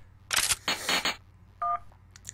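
Cell phone being dialed in a prison escape game, a few quick electronic presses and clicks followed by a short two-tone beep, close and crisp.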